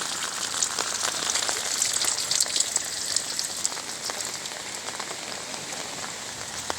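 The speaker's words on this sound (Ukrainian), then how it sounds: "дощ іде і тут блищить вода затопила" Steady rain patters and splashes on flooded pavement, a dense continuous hiss dotted with sharper drops, close and even throughout.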